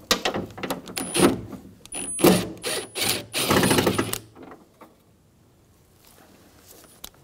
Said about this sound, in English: Using a 10 millimeter socket, we're gonna remove the four bolts and remove the mirror and the gusset.